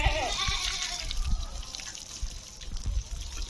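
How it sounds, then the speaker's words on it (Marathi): Water splashes and runs while a bamboo stick is washed for the Gudi Padwa festival, with a trickling, splattering stream near the start and scattered splashes and knocks afterward, and faint background voices. "जेवढं आहे तेवढं पूर्ण काठी धुवून घ्यावी लागते"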